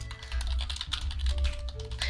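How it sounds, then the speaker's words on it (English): Typing on a computer keyboard while coding in Unity: a rapid, steady patter of close key clicks over a low background hum, with no talk. "Here I am, typing away."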